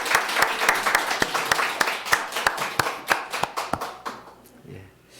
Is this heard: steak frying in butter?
no